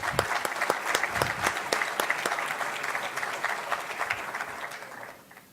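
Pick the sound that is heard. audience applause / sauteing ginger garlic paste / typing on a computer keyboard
audience applause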